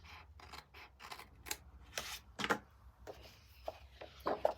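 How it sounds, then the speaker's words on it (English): Multi-purpose scissors trimming the edge of a paper craft border, a run of short crisp snips in quick succession, close and quiet with no talk. "So if I trim that now, using my multi-purpose scissors."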